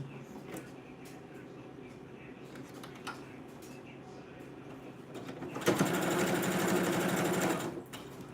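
A sewing machine stitches elastic in a steady whirring run of about two seconds, loud and close, after a quieter stretch of low handling noise and faint background sounds.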